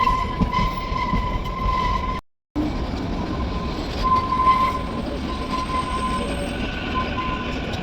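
A train rolls along toward Shimla station with a steady rumbling, rattling roar of the carriages close by, broken by a brief cut-out, with faint tonal whines over the noise.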